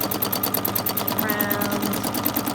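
A sewing machine runs fast and steady while stitching vintage postcards, its rapid even needle chatter close and continuous under a person speaking.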